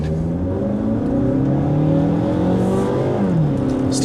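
A 2016 Mazda car with an automatic transmission accelerating hard in a 0-60 mph run, loud and close, the engine note climbing through gears with a brief shift dip partway.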